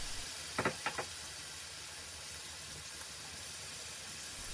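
Garlic and ginger paste sizzling in a hot pan, heard as a steady broad hiss with a few brief clicks and pops near the start. No voices.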